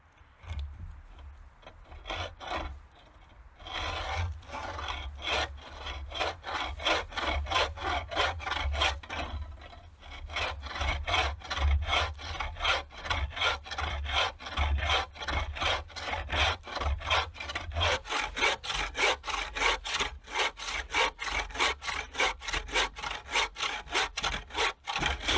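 A bushcraft bucksaw rasps steadily through wood in a fast, regular back-and-forth rhythm of strokes, close and loud, with a slower start before settling into a continuous pace.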